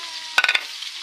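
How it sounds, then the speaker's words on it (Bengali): Onion fries in hot oil with a steady sizzling hiss, broken by a brief cluster of three or four quick stirring scrapes. "আমি তেলটা দিয়ে দেবো এই তো হয়ে এসেছে পেঁয়াজটা এবার আমি দিয়ে দিলাম"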